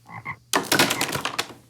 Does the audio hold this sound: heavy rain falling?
no